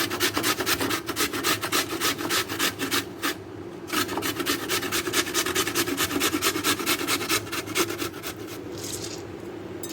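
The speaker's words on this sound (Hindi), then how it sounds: "ये मैं सबसे पहले मैं आलू को इस ग्रेटेड से ग्रेट करूँगी।" Potato rubbed against a metal hand grater in a kitchen, making a steady run of close, rasping strokes in quick rhythm with a brief pause near the middle; no talking.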